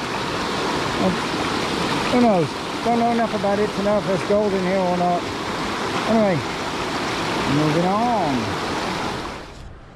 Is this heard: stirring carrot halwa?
no